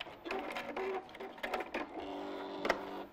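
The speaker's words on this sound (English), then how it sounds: "you just literally stitched around the hole, just to reinforce it" A sewing machine stitches around a hole in fabric to reinforce it, running in short bursts of fast mechanical whirring and needle clatter with brief pauses, fairly close and moderately quiet.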